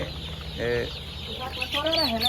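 Brown Cock chickens, 35 days old, clucking nearby in two short bursts of rising and falling calls over a low steady background hum.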